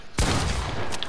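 Loud, close gunfire in the Fortnite video game: a sharp blast followed by sustained, dense shooting that rings on for about a second, with nothing else heard.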